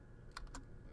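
A few quick keystrokes on a computer keyboard form a short cluster of light clicks, faint and close, with no talking.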